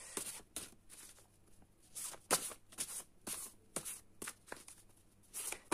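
Tarot cards shuffled by hand at close range, a quiet string of crisp riffling snaps and soft slides in an irregular rhythm.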